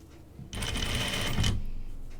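A home sewing machine stitches a seam around a curve on a Cheyenne tunic, one loud steady run of fast whirring that lasts about a second, close up, with quiet room tone before and after.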